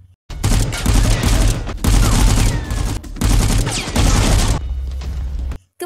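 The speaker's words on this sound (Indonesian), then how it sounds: "agen penyelamat melawan para penculik dengan adu tembakan." Heavy gunfire roars in loud, sustained bursts during a shootout between rescue agents and kidnappers, several volleys of rapid shots separated by short pauses, with no talking.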